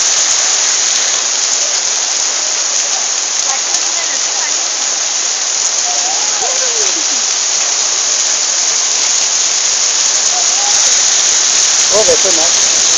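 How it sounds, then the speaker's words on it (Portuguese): Hail pounding down in a storm at a roundabout during a street demonstration in São Benedito, a steady dense hiss of ice stones drumming on surfaces and a car, continuous and loud throughout, with people talking briefly over it. "Nossa, pedra de gelo."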